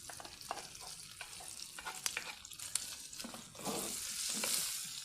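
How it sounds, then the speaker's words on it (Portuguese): Crushed onion and garlic sizzling in a pan with fried jerky, calabresa sausage and bacon, a close crackling fry with scraping stirs and a surge of hissing toward the end. "Eu vou acrescentar agora, ó, cebola machucadinha e alho. E vou esperar fritar mais um pouco."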